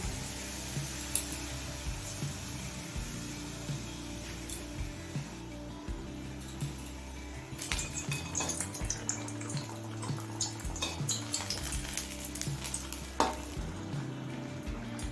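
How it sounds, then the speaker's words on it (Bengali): Palm-fruit malpua batter fries in a pan of hot oil, with a steady close sizzle and bubbling running throughout and occasional scrapes and stirring knocks, no voices. "আরও একটা মালপোয়া ভেজে আমি আপনাদের দেখিয়ে দিচ্ছি"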